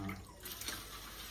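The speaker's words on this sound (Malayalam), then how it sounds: "ഇനി അടുത്ത വെള്ളത്തിലേക്ക് കഴുകാം" Arrowroot tubers being washed in a vessel of water, a steady close splashing and running-water wash with no voices.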